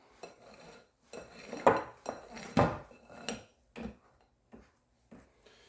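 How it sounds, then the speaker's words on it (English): A spatula scrapes down a mixing bowl of fruitcake batter in a quiet kitchen, giving a string of close, separate scraping strokes and light taps against the bowl. "We're going to scrape the bowl down."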